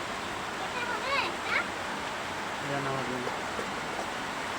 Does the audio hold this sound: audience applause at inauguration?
no